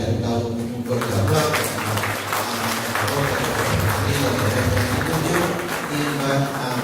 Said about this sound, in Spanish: A ella la recibimos también con un fuerte aplauso